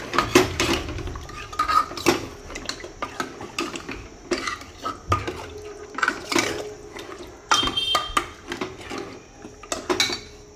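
A metal spoon stirs mutton curry in a pot, giving repeated scraping clinks and knocks against the sides in irregular strokes, close and fairly loud, with no voices.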